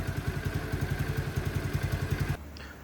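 A CT70 clone minibike engine fitted with a Nibbi carburetor runs not yet fully warmed up, a close, loud, rapid even putter that cuts out abruptly near the end, leaving quiet background.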